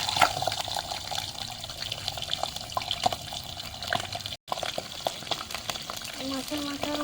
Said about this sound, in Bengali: এবারে এই তেলে মাছের মাথাটা ভেজে নেব।